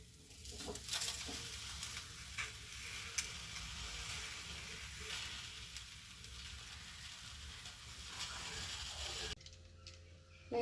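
Ottada, a rice flatbread, roasts in a pan under an inverted pot, giving a steady soft sizzle with faint crackles, then a clatter as the cover is lifted near the end.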